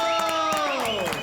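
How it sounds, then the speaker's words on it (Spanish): A studio audience gives a short burst of applause and cheering for an investigative journalist, with clapping over a voice. "Un aplauso. ¡Bravo!"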